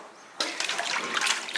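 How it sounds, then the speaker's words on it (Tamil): Water is poured generously over mutton pieces being washed, a sudden splashing gush that starts abruptly and keeps running, close and fairly loud. "நல்லா தாராளமாக தண்ணி ஊற்றிடணும்."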